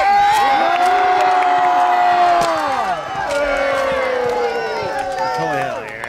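A crowd cheers and whoops at a Renaissance faire joust in Connecticut, many voices shouting and hollering together near and loud, with a few higher children's shouts, the roar easing slightly midway then rising again.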